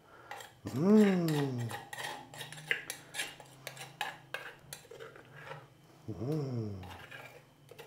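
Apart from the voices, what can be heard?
pot and utensils while making green sauce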